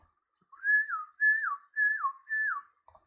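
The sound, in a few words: recorded up-and-down whistling sound in Scratch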